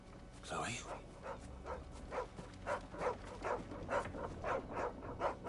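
A dog in the video game Final Fantasy 16 gives a run of quick, rhythmic yips and barks, faint and repeated steadily, mixed with a voice and game ambience.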